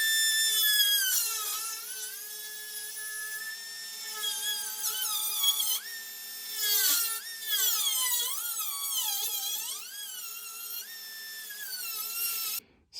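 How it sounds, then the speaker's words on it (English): A Dremel tool with a thin cutting blade slices through the sheet metal of a crushed 1977 Chevy Nova roof, a high whining grind that rises and falls in pitch as the load changes, continuous and close before stopping abruptly. "I'm gonna use a Dremel tool, cut that out."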